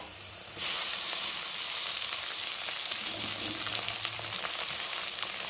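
Cabbage and green chilli added to frying vegetables in a pan sizzle steadily and loudly after a quieter start, a continuous hissing fry with faint stirring and no voices.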